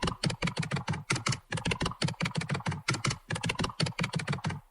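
A typewriter typing sound effect clatters in dense, rhythmic bursts of rapid keystrokes with brief pauses between groups, loud and close with no talking.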